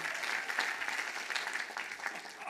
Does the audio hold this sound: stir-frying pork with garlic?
no